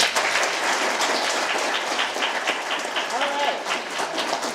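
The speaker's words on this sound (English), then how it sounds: "One more big round of applause" An audience at the Form Forge 2025 event gives a steady, full round of clapping throughout, with a brief spoken remark over it.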